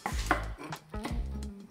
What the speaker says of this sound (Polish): Ja kroję paprykę ostrą, czyli w takie dość duże kawałki.